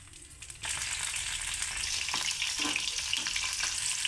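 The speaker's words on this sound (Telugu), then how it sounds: "కాగిన తర్వాత 10 పచ్చిమిరపకాయలు వేయించుకుందామండి" Ten green chillies dropped into hot oil for a tomato, coriander and brinjal chutney: after a brief quiet moment, a loud, steady sizzle erupts and holds without a break, with faint stirring underneath.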